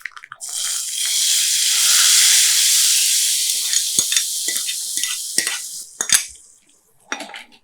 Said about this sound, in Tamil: இதை அப்படியே எடுத்து நம்ம என்ன செய்ய போகிறோம் நம்ம வச்சுருக்கிற இந்த நாவல் பழம் இருக்கு இல்லையா ரசம் அதில் அப்படியே மிக்ஸ் பண்ணிடலாம்